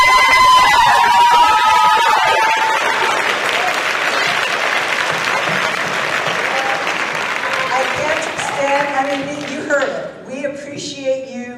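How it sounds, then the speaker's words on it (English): Audience at a student awards ceremony applauds teachers and staff with sustained clapping that gradually thins out, while voices and faint tones come in near the end. "please stand up real quick so we can give you all a round of applause"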